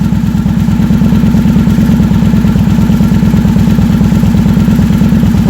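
A 2007 Victory Vegas motorcycle engine, just fitted with a new stator, idles loud and close with a steady, even lope and a fast regular pulse running all the way through, with no one talking.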